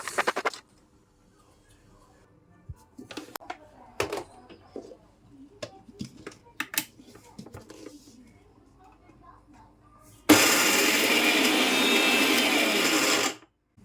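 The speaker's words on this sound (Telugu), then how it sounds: "ఈక్వల్‌గా ఉండేలాగా వెల్లుల్లి కూడా వేసి మిక్సీ పట్టేయాలి" An electric mixer grinder whirring loudly as it grinds chopped ginger and garlic into paste, starting abruptly after some quiet kitchen clatter and running steadily for about three seconds.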